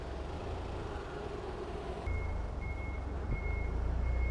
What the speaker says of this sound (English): There's a truck coming up behind me.